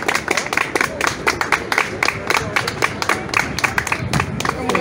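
An audience at a stage hypnosis show claps together in steady, dense applause, loud and close, with scattered voices in the crowd.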